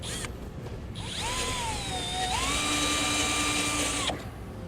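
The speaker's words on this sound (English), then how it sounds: "we'll drill it out with a smaller bit as a pilot hole and then work our way up" A drill winds up and bores a pilot hole with a small bit while mounting a base plate on a 2007 Saturn Vue, its whine shifting pitch as it bites, running steadily for a few seconds before stopping.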